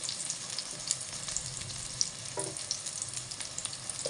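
Eggplant frying in a pan, a steady close hiss and crackle with small pops and a brief clatter as the pieces are turned over.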